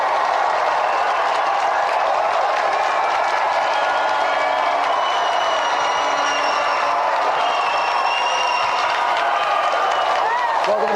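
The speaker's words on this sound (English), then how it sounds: "give a round of applause for our 3 volunteers" TV studio audience applauding on a retro gaming game show, a continuous loud wash of clapping with some cheering, with tonal sounds mixed in underneath.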